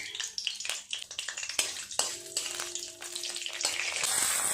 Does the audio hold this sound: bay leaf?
yes